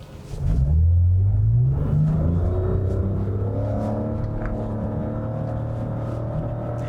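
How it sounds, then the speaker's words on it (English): A 2020 Lexus RX SUV engine revs up with a rising roar under hard acceleration, then settles into a steady, loud rumble as the vehicle keeps accelerating. "That was a really interesting noise that this car made when I put my foot down"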